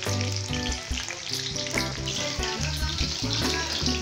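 Raw jackfruit pieces frying in hot oil until golden brown for an Indian kathal curry, a steady, loud, continuous sizzle with faint stirring throughout.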